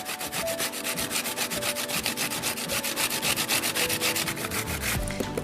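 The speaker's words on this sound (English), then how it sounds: "So we're just going to put this right on here and grate it up." Zucchini grated by hand on a kitchen grater for chocolate zucchini bread: a steady, fast rhythm of close, rasping strokes that runs continuously with no talking.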